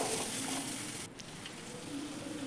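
Tomatoes with ginger garlic paste sauté in a pan for egg rice, giving a steady, close, continuous sizzle and frying hiss without any talking.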